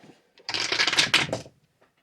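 A pair of twenty-sided dice rolled during a tabletop role-playing game, giving a close, rapid rattling clatter lasting about a second before settling, with faint small sounds around it.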